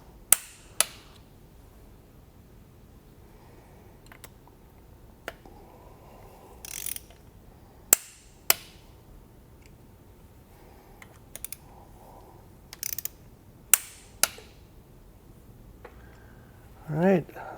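Torque wrench clicking as Performance Machine cam cover bolts on a motorcycle are tightened to 105 inch-pounds, sharp isolated ratchet clicks scattered through a quiet garage with a few soft mechanical shuffles in between.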